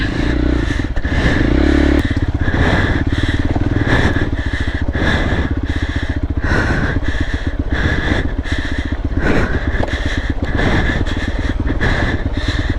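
A motorcycle engine revs and labors continuously up close on a slippery off-road trail, with rattling clatter and bursts of throttle as it bumps over rough ground.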